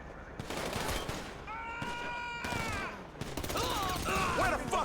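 Rapid bursts of gunfire fill a GTA 5 firefight, loud and overlapping, while shouting voices break in between the shots.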